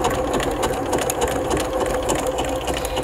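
Bernina 325 domestic sewing machine running a zigzag stitch, a steady fast mechanical whirr with rapid needle ticking, close and continuous throughout.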